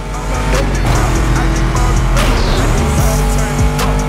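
Chevy Caprice cars racing in the video game The Crew Motorfest, with loud roaring engines, tire squeal and skidding, continuous and close throughout.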